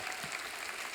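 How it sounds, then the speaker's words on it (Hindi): A studio audience on The Kapil Sharma Show applauds its guests, a steady wash of clapping at even loudness through the whole second. "जोरदार तालियां हो जाए हमारे मेहमानों के लिए"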